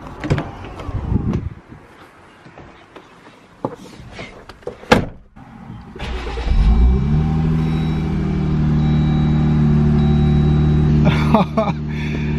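A door thuds shut, then a Jeep engine with an aftermarket Flow Pro exhaust starts and settles into a deep, throaty rumbling idle with a loud exhaust note, close by.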